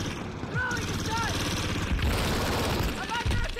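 Video game gunfire crackles in steady dense bursts with heavy booming impacts, loud and continuous, while voices talk over it.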